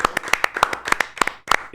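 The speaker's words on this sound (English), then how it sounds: "How about a round of applause for 415?" A few people clap in a talk-show studio, sharp distinct handclaps in an uneven quick rhythm, close and crisp, with a brief voice at the end.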